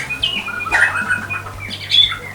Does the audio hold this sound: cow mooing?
no